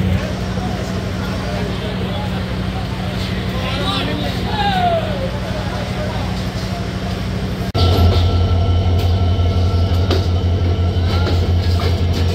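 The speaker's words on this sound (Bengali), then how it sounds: "সাতটা বেজে 54 ট্রেনটি ছেড়ে যাচ্ছে নাটোর" The Titumir Express leaves Natore station with a loud, continuous low rumble and engine drone that grows heavier partway through, while someone narrates over the noise.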